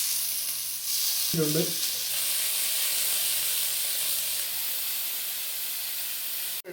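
Chicken frying in butter in a pan, a loud, close, continuous sizzle with a short stirring scrape early on, and a brief word spoken near the start.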